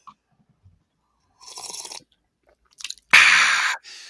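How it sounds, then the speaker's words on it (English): Someone slurps hot coffee up close, with a short slurp followed by a few small sips and then a longer, louder slurp against near silence. "Hot coffee is meant to be slurped."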